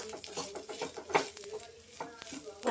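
Grated coconut with kanthari chili and a little tamarind stirred in a pan while cooking a stir-fry of elephant foot yam stems, with soft scraping strokes and a faint sizzle, close and quiet, with no talking.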